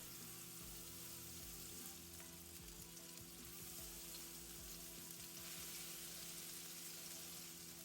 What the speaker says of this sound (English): A nice sizzle.